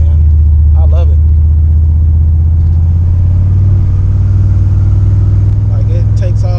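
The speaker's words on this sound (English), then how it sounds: "The car takes off great, man." A turbocharged LS-swapped 1996 Chevrolet Impala SS pulling away from a stoplight, its engine a heavy, steady low rumble heard from inside the car while someone talks over it.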